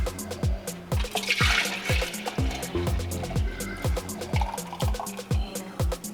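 Frothed milk latte poured carefully into a French press, giving a steady liquid trickle and splash over a rhythmic backdrop of repeating low thumps.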